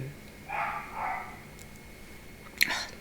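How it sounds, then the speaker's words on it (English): A dog barks a couple of times at a distance, faint beneath a steady background hum, with a sharper sound near the end. "dog is driving me crazy"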